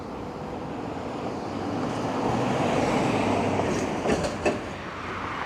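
A train rumbles past steadily, a broad roar swelling and holding, with a few clicking rail knocks near the end.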